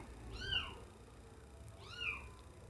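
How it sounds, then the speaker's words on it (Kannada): A cat meows twice, a clear, fairly close call followed by a second after a short pause, with a quiet background hum. "ನಮ್ಮ ಕ್ಯಾಟ್ ಸೌಂಡ್ ಬರ್ತಾ ಇದೆ"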